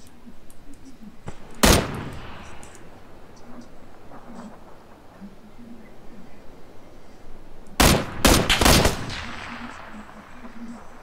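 Gunfire in a shooter video game: one sharp loud shot early, then a rapid cluster of several shots a few seconds later, with quieter background ambience between.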